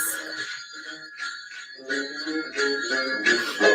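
Tinny, bell-like tones play in a bouncy melodic pattern, a 1941 big band recording of Jingle Bells with chiming notes, heard on its own.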